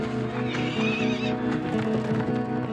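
A horse lets out a loud, close whinny over steady clip-clop hoofbeats, set against a Western scene.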